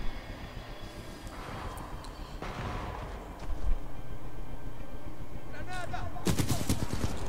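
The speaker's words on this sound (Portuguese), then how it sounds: "essas navinhas metendo bala em mim aqui é foda" Small enemy ships fire bursts of gunfire at the player in the Titanfall 2 shooter game, with sharp rapid shots clustering loudly near the end over a constant game background rumble.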